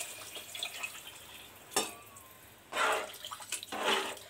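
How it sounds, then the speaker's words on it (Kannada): Water is poured in several separate splashing bursts into a pot of rice for potato and peas pulao, with quieter pauses in between and the pours landing close by. "4 ಲೋಟ ನೀರು ಹಾಕ್ತಾ ಇದೀನಿ"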